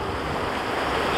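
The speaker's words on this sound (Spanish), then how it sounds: "escuchad y mirad cómo corre el agua" Rushing water pours steadily in a mountain stream in Andorra, a dense, continuous close-up roar with no pauses and no voices.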